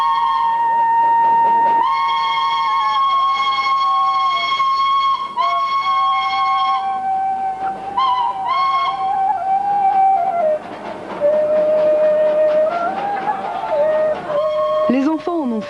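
A Himalayan steam train runs with a sustained, loud steam whistle that shifts pitch and repeats across the stretch, over the rumble of the moving cars, with voices in the background.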